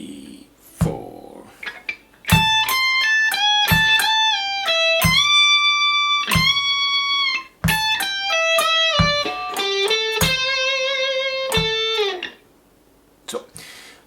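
Clean electric guitar picking the second half of a riff phrase, bright plucked notes ringing out in a measured rhythm, close and fairly loud, with a brief voice near the start.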